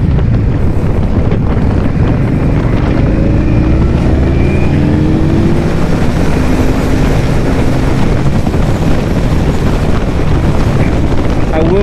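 A 2021 Indian Scout Bobber Twenty motorcycle engine runs steadily while riding, its low rumble shifting pitch as it accelerates, heavily buffeted by constant loud wind noise across the microphone for the whole stretch.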